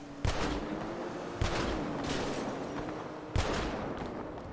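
Video game gunfire: three sharp, moderately distant shots ring out at irregular intervals, each with a short echoing tail, over a faint steady background hum and no talk.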